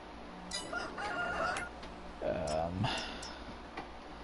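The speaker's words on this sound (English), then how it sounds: "fresh chickens. So they need to grow up" Chickens in the video game Farming Simulator 22, clucking and giving a couple of drawn-out squawks from a farm coop, close and fairly loud over a soft background hum.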